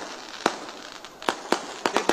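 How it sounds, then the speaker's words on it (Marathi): Firecrackers go off at a political rally in Phursungi, Pune: five or six sharp, loud cracks in an irregular burst, with the last few coming close together over a low background murmur. "फटाके बंद करा, फटाके"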